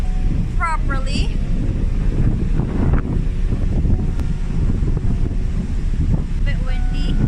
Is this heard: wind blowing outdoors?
yes